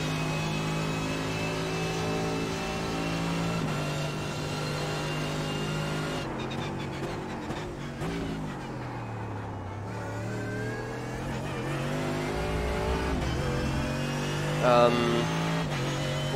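Mercedes GT3 race car engine in iRacing at Monza, a loud steady high-revving drone with gear shifts and pitch sweeps as the car brakes and accelerates, continuous throughout.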